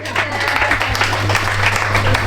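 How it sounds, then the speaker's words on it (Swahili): A church congregation at a Sunday service claps together in steady, dense applause that continues throughout, with a low electrical hum underneath. "Hebu tupige makofi."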